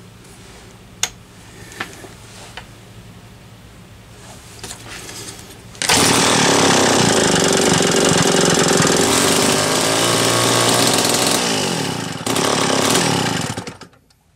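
A small engine fitted with a Tillotson HL-63A carburetor, starved of fuel, tries to run: faint clicks first, then a loud, rough, buzzing run for several seconds that falters briefly and dies out.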